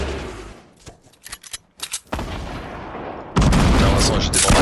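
Automated turret firing in Fortnite, a run of sharp, rapid gunshot bursts followed by sustained loud bursts of fire, with gamers talking faintly underneath.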